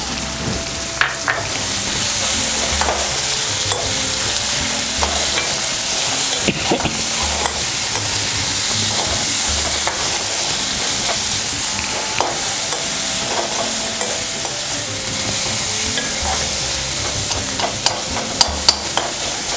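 Chopped onions fry and get stirred in a pan for mutton keema, a steady sizzle with repeated scraping strokes of the spoon throughout, close and alone without talk.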